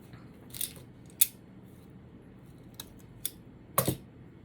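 Scissors snip a pipe cleaner in half with a few sharp, close clicks spread across a few seconds, the last snip a quick double cut, over a quiet background.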